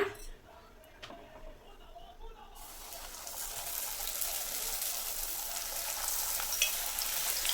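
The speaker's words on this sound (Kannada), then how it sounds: "ಸೊ ಇವಾಗ ಎಣ್ಣೆಗೆ ಹಾಕೋಣ ಪೂರಿನ" Puri dough drops into hot oil in a kadai and bursts into a loud, steady sizzle that fills the rest of the moment after a few quieter kitchen clicks.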